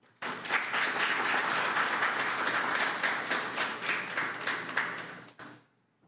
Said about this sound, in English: I think we can give Mr. Buffonge a much better round of applause.